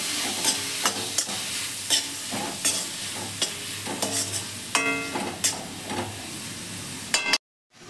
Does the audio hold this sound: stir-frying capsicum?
yes